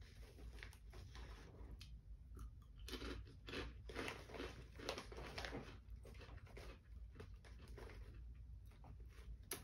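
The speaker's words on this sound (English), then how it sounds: "So it has a crunchy to it, like a Pringle would." A spiral potato chip snack being bitten and chewed up close, giving repeated crisp crunches in an irregular rhythm over a steady low background hum.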